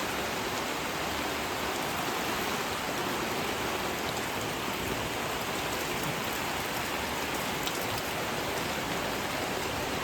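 Heavy rain pouring down outdoors, a dense, constant hiss of drops on surfaces that stays loud and even throughout with no voices.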